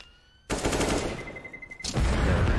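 Counter-Strike pistol round, with a quiet start that breaks into a loud burst of rapid gunfire. The shots continue densely with a ringing tone, then a second heavy volley follows near the end.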